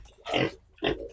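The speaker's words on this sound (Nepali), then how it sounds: "साथीहरू हाम्रो सुँगुर चाहिँ यस्तो छ" Two short, throaty grunts from a pig come about half a second apart, close to the microphone and alone, with a faint low hum beneath them.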